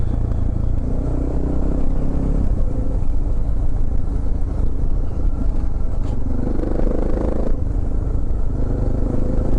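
A dual sport motorcycle ridden through high country gives a continuous loud, low engine drone with rushing wind, steady and near throughout, with slight shifts in pitch.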